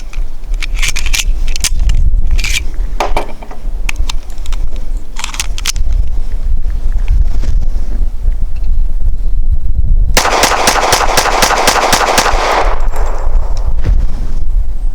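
Rapid gunfire from an American Classic Commander 1911 .45 pistol, a full magazine fired in quick succession, loud and close with sharp repeated reports and a dense burst of shots near the end.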